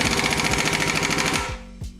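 Impact wrench zapping a nut tight during a budget K24 engine build: a loud, rapid hammering burst for about a second and a half, then spin-down and one short final rattle.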